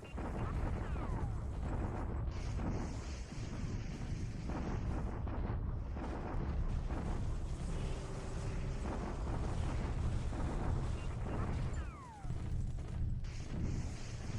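Continuous bombardment explosions at Changsha in the war strategy game War in the Pacific rumble densely for about fourteen seconds. Booms and blasts overlap at a steady low level with a few brief dips, and nobody speaks.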